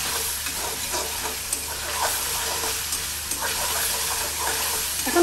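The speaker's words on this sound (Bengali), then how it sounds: "এখন ভালো মতো করে আমি নাড়াচাড়া দিব ভিউয়ার্স" Spiced sweet potato greens and dried fish being stirred in a pan, a dense steady sizzling hiss with faint scraping stirs underneath, close and continuous without speech.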